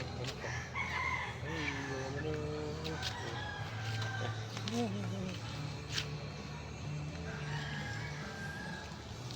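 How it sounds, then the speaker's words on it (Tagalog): Chickens clucking and a rooster crowing at a farmyard, fairly faint, with people talking over steady background noise. "Ayan, mga manok po."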